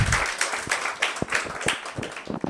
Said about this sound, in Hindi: इसलिए सर के लिए एक बार जोरदार तालियां